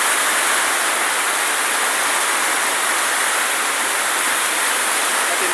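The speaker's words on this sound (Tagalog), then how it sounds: "Matindi ang ulan." Heavy rain pours in a dense, loud, unbroken roar, steady throughout with no voices.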